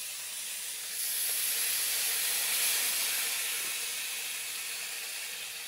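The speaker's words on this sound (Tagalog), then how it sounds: "Gigisa ang lambay." Lambay crabs sautéed in a pan give a steady bright sizzle that swells louder after the first second and then eases slightly, close and continuous without talk.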